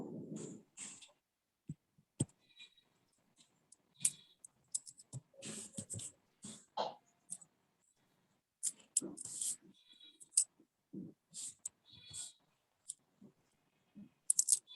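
An essay being written by hand with a pen on paper: soft, intermittent scratching strokes and occasional clicks up close, separated by short pauses, with quiet breathing and no talk.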